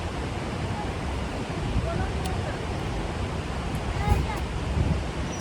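Thoseghar waterfall, heard from below, gives a dense, continuous broadband rush of falling water that stays steady and loud, with faint voices and small sounds poking through now and then.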